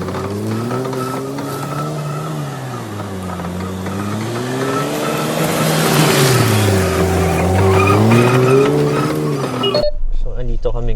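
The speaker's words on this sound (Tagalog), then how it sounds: "So, activate natin yung tank turn. Yan. Activated na. Tapos, sobrang lakas ng liko niya." A GWM Tank 300 SUV performs a tank turn off-road on an unpaved development site, its engine droning loudly and rising and falling in pitch as it pivots, with a passing whoosh near the end.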